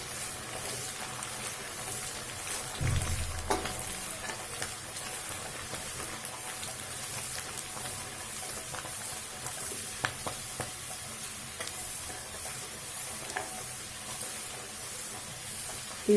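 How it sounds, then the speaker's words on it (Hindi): Chana dal fries in oil on high flame, giving a steady, soft sizzle with a louder crackle as it is stirred, faint clinks of a spoon scattered through. "अब हम चना दाल फ्राई करेंगे। हाई फ्लेम में करना है"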